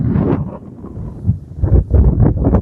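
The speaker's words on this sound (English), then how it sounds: "It's always windy here." Gusty wind on South Moor Golf Club course buffets the microphone in low, rumbling bursts, rising and falling unevenly and strongest toward the end.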